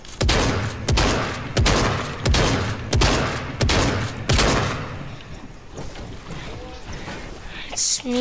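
Gunshots ring out as about seven loud, sharp reports at a steady, evenly spaced pace, then fade into quieter background noise.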